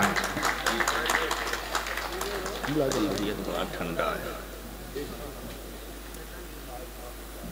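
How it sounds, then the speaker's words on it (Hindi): Applause from a mushaira audience welcoming the poet Mayal Chandaulvi in Mughalsarai, a dense crowd clapping that swells near the start and then thins to a softer patter, with a voice speaking over it. "आप हजरात एक ज़ोरदार तालियों से जनाब माइल साहब का इस्तबाल"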